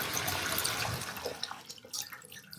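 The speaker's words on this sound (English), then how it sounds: "the water is running straight down." Water running down a bathroom drain after a clog has been cleared with a plastic drain cleaning tool, a steady rushing flow that thins into scattered trickles and drips, close and fairly quiet.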